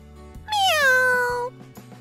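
A cat in a dubbed manga scene gives one clear, drawn-out meow that rises and then falls, loud and close against a quiet background hum.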